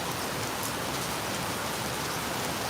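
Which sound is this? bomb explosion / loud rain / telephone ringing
loud rain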